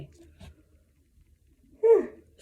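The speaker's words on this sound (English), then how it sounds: "Sorry, I don't mean to yawn." A person yawns once, a single loud drawn-out breathy yawn near the end, after a quiet stretch with faint low murmuring.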